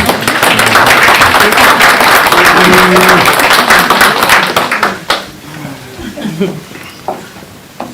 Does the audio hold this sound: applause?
yes